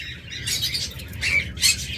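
Caged lovebirds and cockatiels, including a red-eye fischer and opaline lovebird pair, giving shrill overlapping squawks and chirps nearby, a steady chatter with sharper peaks.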